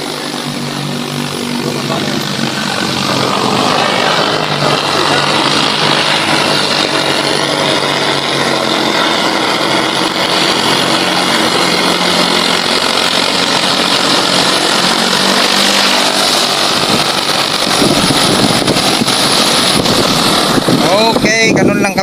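An agricultural drone seeding a field flies close by, its propellers giving a loud, steady, broadband whirring roar throughout, with wind buffeting and a voice talking underneath.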